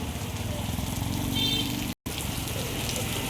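Steady rain patters and hisses on surfaces at moderate volume, a continuous wash of drops with a brief dropout midway.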